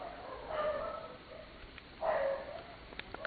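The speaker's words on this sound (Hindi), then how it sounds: "हमारे चारों तरफ भौंक रहे हैं ये" Dogs bark on all sides at night, growing closer: two drawn-out, somewhat distant barks or yelps rise over a quiet background, followed by a few faint clicks.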